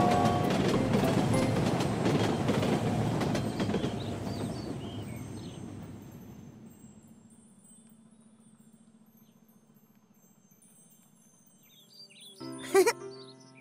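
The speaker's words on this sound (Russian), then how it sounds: "Навстречу Лёве едет поезд." A cartoon steam train rolls through a 3D children's animation with a loud rumbling clatter that fades away over several seconds, followed by a quiet hum and a short bright jingle near the end.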